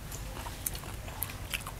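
Crunchy bites into deep-fried battered linh fish give a few faint, crisp cracks in quick succession, close and quiet over soft background noise.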